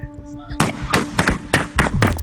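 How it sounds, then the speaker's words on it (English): Several sharp gunshots go off in quick succession during a livestream, five or six loud bangs spaced roughly a third of a second apart, close and startling. "Terrifying sounds of gunfire can be heard."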